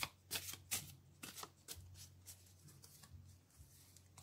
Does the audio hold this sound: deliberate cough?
no